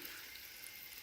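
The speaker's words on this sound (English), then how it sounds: "So adding the water" Water pours steadily into a cooking pot for a Jamaican home-style chicken dinner, a continuous close rushing splash with no talking.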